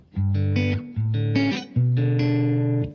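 An electric guitar played through effects pedals with a dry tone and no reverb or delay, three separate sustained chords or notes ringing clearly and loud, each cut off before the next.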